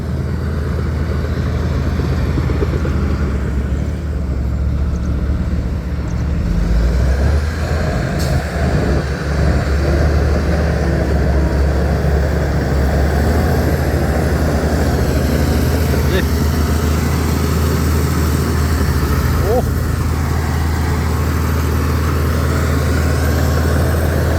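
A Liu Gong tractor from China works through heavy machinery rumble, its engine droning steadily and loudly for the whole stretch with a deep low hum, while a voice speaks intermittently.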